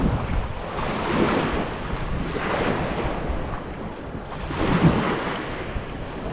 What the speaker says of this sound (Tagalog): Medyo lumakas na yung alon.